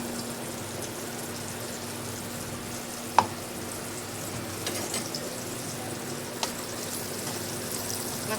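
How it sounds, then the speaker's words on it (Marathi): A ground spice paste fries in oil with a soft, steady sizzle and hiss, broken by a few faint clicks, over a low constant hum and with no voices. "मसाला तेलामध्ये छान असा तळलाय."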